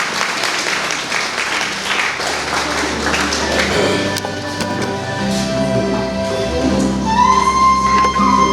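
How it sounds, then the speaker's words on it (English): An audience at an inter-school PowerPoint competition applauds the judges before the results are declared: a loud crowd clapping that fills the first half, then thins out as sustained musical tones take over. "Let's give a huge round of applause for our judges for the declaration of results."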